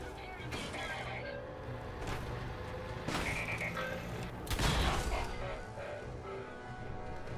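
Weapon fire in Fallout 4, a few sharp bursts and cracks over a busy game soundscape, with a louder burst near the end and voices talking over it.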